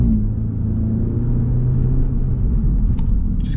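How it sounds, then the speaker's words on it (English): A car fitted with a Racechip XLR tuning box, driven in sports mode, rumbles loudly from inside the cabin as it accelerates. The engine tone rises and falls while shifting through the gears. "I thought I'd try it in sports mode to see, and boy does it make a difference, particularly when you're going through the gears"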